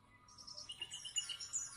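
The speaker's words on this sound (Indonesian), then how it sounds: "Kicau burung bersautan, sambut pagi yang indah" Birds chirp and tweet in the morning, with faint, scattered high calls overlapping one another against a quiet background.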